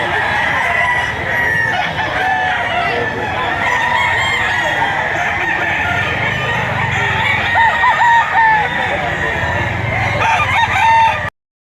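Roosters at a busy poultry auction market in Lipa crow and cluck continuously among many birds, a dense, loud mix with a nearby crow standing out near the end.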